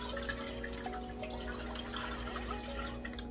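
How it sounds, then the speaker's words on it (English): Water poured into a bowl for softening rice paper wrappers, a quiet steady trickle and splash filling the bottom, close and unbroken with no talk. "we're gonna pour a little bit of water just to fill the bottom."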